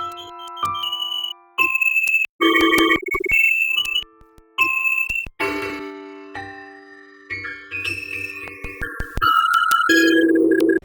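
A Lo-Fi AF degradation plugin processes synth tones into bursts of bitcrushed, warbling beeps and chimes, with abrupt stops and gaps between loud, heavily degraded phrases, and no one speaking.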